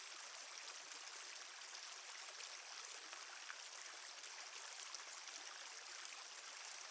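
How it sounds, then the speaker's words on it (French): Waterfall pouring into a clear pool, a steady, soft broadband rush of falling water, continuous and even, with no voices. "Une cascade cristalline s'écoule dans un bassin limpide."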